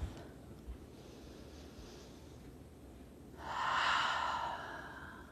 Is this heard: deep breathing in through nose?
yes